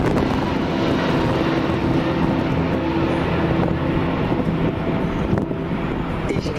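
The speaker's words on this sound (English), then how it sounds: "our two pilots today, they're both experimental test pilots, Peter Chandler and Wolfgang Hansmeyer, are able to maneuver the aircraft just like this" A large aircraft flown by two experimental test pilots maneuvers in flight, a steady broadband engine roar with a low droning hum that holds loud and even throughout, with a slight shift near the end.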